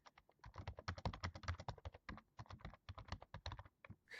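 Rapid, dense keystrokes on a computer keyboard, a quick run of close, crisp clicks and clacks lasting a few seconds with no pauses to speak of, heard alone without any voice.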